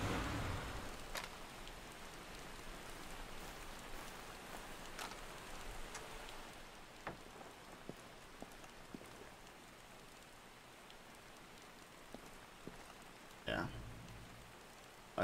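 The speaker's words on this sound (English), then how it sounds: "We're in the rain?" Steady rainfall in the video game Far Cry 2, a soft continuous patter with a few sharp clicks and thuds scattered through it, fairly faint, with talking over it.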